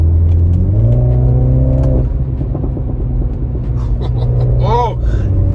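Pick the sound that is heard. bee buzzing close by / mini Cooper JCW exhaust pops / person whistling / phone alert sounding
mini Cooper JCW exhaust pops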